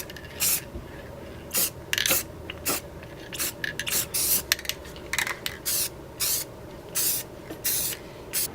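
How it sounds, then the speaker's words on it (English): Rust-Oleum metallic spray paint hissing from a can onto a car valve cover in short, repeated bursts of a second or less, separated by brief pauses and quiet handling noises, close and clear. "I'm going to start spraying it. I got this Rust-Oleum metallic"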